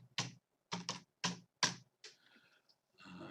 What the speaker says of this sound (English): the first thing you've got to do is type in your club name